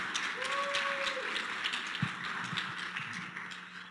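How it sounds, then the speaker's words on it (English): An event audience gives a round of applause for Christian Brindle, with a soft wash of clapping that carries on steadily, somewhat distant, and fades slightly toward the end. "round of applause for Christian Brindle for putting on this event"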